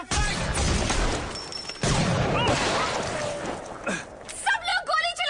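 Dense gunfire and crashing impacts from a 2016 film shootout roar loudly and continuously under shouted dialogue, with voices growing clearer near the end.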